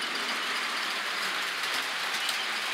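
Long train passing on the main line, a steady broadband rushing roar of rolling cars that holds constant and fairly close, with no talk.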